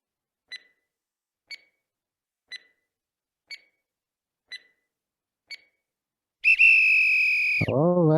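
Six short, evenly spaced electronic beeps ring out alone, followed by a long, loud whistle blast that ends a timed quiz round at an online event, then a sliding warbling tone at the close.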